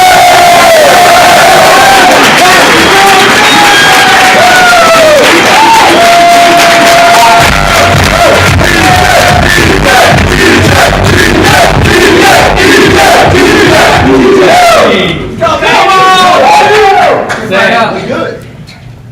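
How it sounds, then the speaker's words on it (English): A loud crowd at a Super Saturday event roars, whoops and yells for an executive as he takes the stage, with sustained cheering and clapping building into rhythmic shouts and chanting throughout. "please give a round of applause to Mr. DJ Snyder!"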